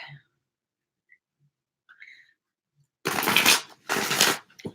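Tarot cards being shuffled, two close, loud bursts of rapid riffling about a second each, after a near-silent stretch with faint small sounds.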